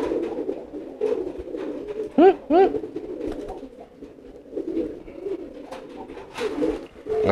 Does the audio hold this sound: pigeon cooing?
yes